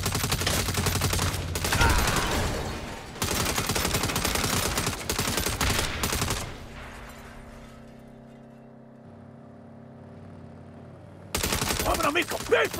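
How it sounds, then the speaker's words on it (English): Gunfire in Saints Row rattles in dense rapid automatic bursts with shattering glass, loud and close. Mid-clip it gives way to a quieter tonal stretch before a final burst. "Guns."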